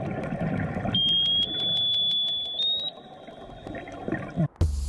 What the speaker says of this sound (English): you can hear a ship's sonar underwater?